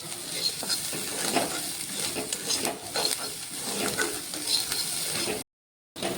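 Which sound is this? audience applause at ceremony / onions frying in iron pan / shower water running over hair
onions frying in iron pan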